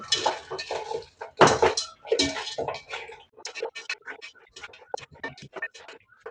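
Mutton pieces are mixed by hand with a generous amount of ginger-garlic paste, cloves and cardamom for biryani, producing a close run of irregular wet squelches and light clinks against a bowl.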